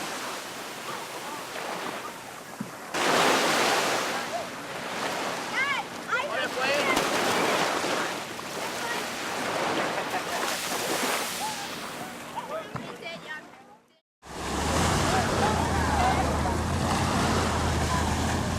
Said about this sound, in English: the surf in the Sea of Cortez is often rough, and the undertow sometimes treacherous